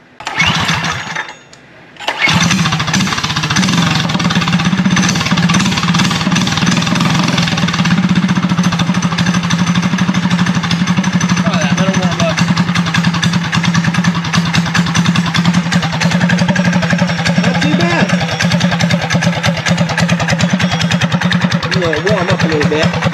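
A small MB200 minibike engine fired up after a brief crank and a short pause, then settling into a steady, loud, buzzing idle that runs on continuously, with a voice speaking faintly over it.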